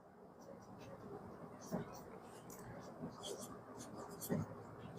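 Pen scratching across paper while a math exercise is written out by hand, a steady scribbling texture with a few sharper strokes, close and moderately quiet over a faint hiss.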